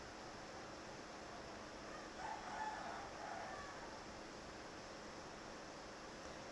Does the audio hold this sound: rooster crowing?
yes